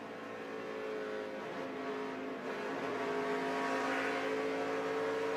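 A race car engine runs rough during a 2013 ARCA stock car race at Chicagoland, a continuous droning roar that swells slightly, heard from a distance with no talk.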